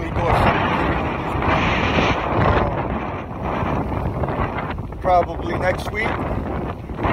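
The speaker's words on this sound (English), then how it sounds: "the wind out here is pretty not safe" Strong wind buffets a microphone outdoors, a continuous loud roar and rumble with gusts, while someone talks briefly over it.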